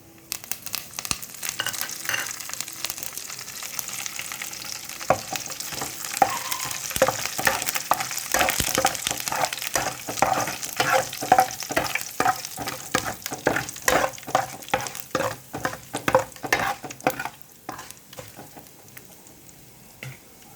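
Tempering spices with curry leaves frying in hot oil for an okra dish, close crackling and popping sizzle with stirring, bursts growing denser midway then thinning toward the end, no voices.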